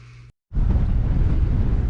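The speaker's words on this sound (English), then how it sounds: "once again we are windy as all hell" After a brief hum and a moment of silence, strong wind roars into the microphone with a loud, steady rumble.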